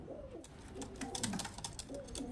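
Pigeons coo in soft, low, throaty phrases close by, two or three rolling calls overlapping with faint rustling, and no voices.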